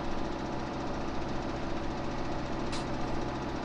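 Tractor engine in Farming Simulator 17, a steady loud droning rumble with a rough, knocking texture running throughout, broken only by a brief sharp click near the end, with no talking.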